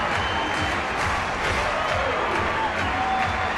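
A baseball stadium crowd roars and cheers continuously after a walk-off home run by Brandon Crawford for the San Francisco Giants, a dense wash of voices filling the whole stretch.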